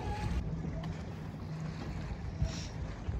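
Choppy, busy lake water slapping around a rocking dock with boats and jet skis nearby, a constant rough wash of waves and wind buffeting close to the microphone.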